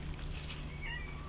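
A cat meows faintly a couple of times against a steady low background hum, close by but quiet.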